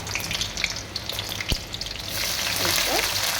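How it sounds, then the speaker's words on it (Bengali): Chopped garlic frying in a pan for khichuri, a dense close sizzle with scattered pops and one sharp knock, growing into a steadier hiss toward the end with no voices. "এখানে রসুন কুচি দিয়ে দিলাম"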